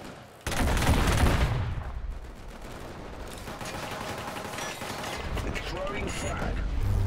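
Gunfire from a weapon in the online multiplayer shooter Killzone Shadow Fall: dense, sustained bursts of rapid shots and explosive rumble lasting several seconds, loud and close, with a player's voice under it.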